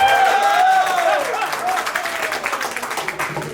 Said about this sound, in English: how do you clap? Clap, clap, clap.